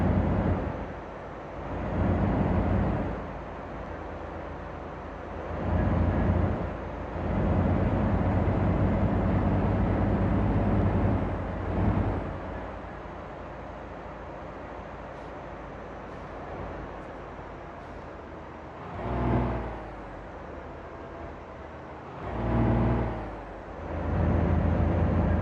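An in-game truck on an Alaskan road drones with a low, steady engine hum while slowing, its pitch dipping and swelling in repeated surges as gears lag before engaging, heard alone without voices.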